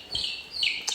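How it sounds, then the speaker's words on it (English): Golden laced Wyandotte chick being held: two short, high chirps, close and fairly clear, with a faint third peep at the end. "This is the golden laced Wyandotte."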